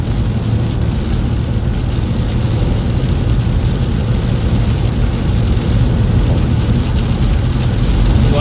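Heavy rain pours down in a December storm as a loud, dense, unbroken hiss that fills the whole stretch, with no voices.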